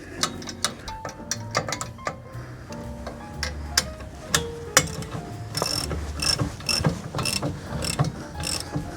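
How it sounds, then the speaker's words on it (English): A crescent wrench tightens a nut onto a steel bolt on an e-bike rack for an RV hitch, close metallic clicks and ratcheting scrapes in an uneven rhythm with light clanks, no talking. "We got ourselves a crescent wrench here."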